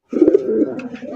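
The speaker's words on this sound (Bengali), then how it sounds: "ওরে ভাই দেখেন, চিলা কবুতরের ডাক দেখেন।" Pigeons coo at close range in a single rolling, throaty call that rises and falls for about a second, with no talk over it; the birds are a breeding pair kept for sale on a pigeon farm.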